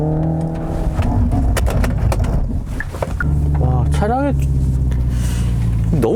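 A Hyundai Ioniq 5 N electric car driving on a circuit hums with a steady, tonal motor whine and rising synthetic pitch sweeps, heard close and loud beneath continuous speech.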